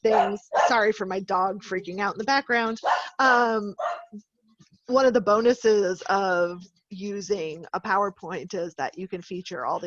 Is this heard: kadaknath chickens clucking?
no